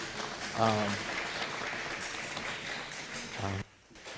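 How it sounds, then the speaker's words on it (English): Audience applause at a panel on Esmont, Virginia, fairly quiet, sustained clapping with brief spoken voices near the start and end, stopping suddenly just before the close. "You can also clap for that one as well"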